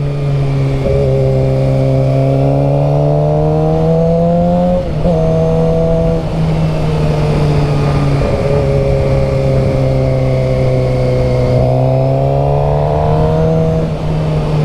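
An engine drones loudly and continuously while riding, pitch rising and falling through several revs and gear changes, heard up close with no voices.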